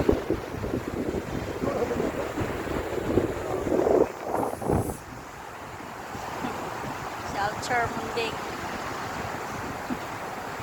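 Strong wind buffets the microphone by the sea at Plaridel, a steady broadband roar with surf beneath, while voices talk over it and a brief whistle-like sound cuts through near the end.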